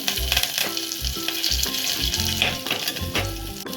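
Curry leaves, cumin, asafoetida and sambar vadagam sizzle and crackle in hot oil for a South Indian home-style veg lunch, close and bright, with stirring clatter and no talk.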